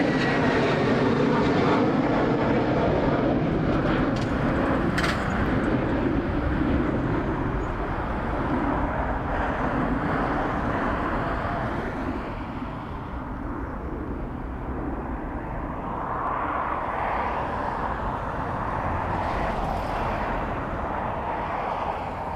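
A jet airliner approaches Dublin Airport on a windy day, a loud broad engine roar that swells and lingers over gusty background noise, with no voices.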